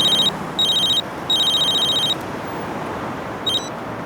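A telephone rings in three loud electronic bursts of uneven length, followed by a brief chirp, over a steady background hiss.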